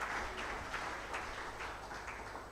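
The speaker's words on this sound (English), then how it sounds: "Let's clap for our panel." Steady applause from a conference audience, a dense even patter of clapping that holds without a break and fades slightly toward the end.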